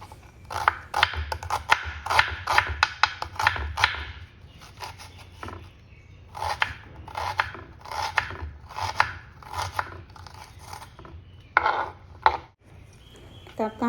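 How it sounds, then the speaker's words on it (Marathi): Onion being cut with a knife on a board while making dhaba-style mixed dal fry: a steady run of crisp, close chopping taps, dense at the start, pausing briefly and then resuming in shorter bursts. "आता आपण दाल फ्राय करणार आहोत त्यामुळे कांदा कट करून घेतो"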